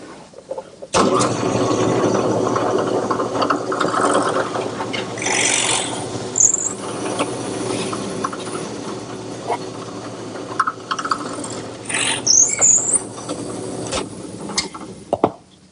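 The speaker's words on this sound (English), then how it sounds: "Normally I use it in my handheld drill, but it works just as well in the drill press." A drill press boring a pilot hole and a 1/4-inch-deep counterbore into wood for outdoor planters, giving a steady, loud grinding whir that runs for about fourteen seconds with slight shifts in pitch as the bit cuts deeper.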